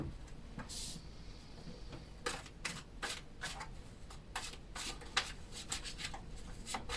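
Tarot cards being shuffled by hand during a reading, giving a run of soft papery slides and flicks in uneven bursts, close and fairly quiet, with no talking.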